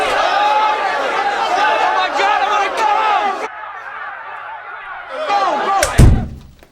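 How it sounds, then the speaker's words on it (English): An office door swings open onto a busy stock trading floor, letting a loud wash of crowd chatter and shouting flood in, cut off briefly before returning, ending with a close thud or slam. "Hold on, let me open up the door to my office."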